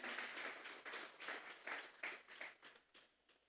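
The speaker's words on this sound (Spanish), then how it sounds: "al cual le vamos a dar una ofrenda de palmas en esta mañana" A church congregation claps as an offering of applause to Christ during a Sunday sermon, a soft, distant patter that fades out by the end.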